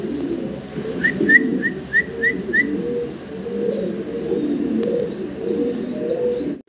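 Section shield fancy pigeons coo in a low, rolling, repeated burble nearby, with a short series of faint chirping whistles early on.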